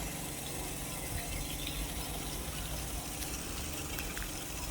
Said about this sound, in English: Oh, that water's coming out very strongly.